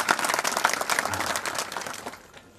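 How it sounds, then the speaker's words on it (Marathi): Audience applause at a Marathi kirtan program, a short, faint patter of clapping from a crowd that fades out within a few seconds. "ज्यावेळेस एखादं चांगलं वाक्य वाटलं असेल त्यावेळेस बिनधास्त टाळी वाजवायची"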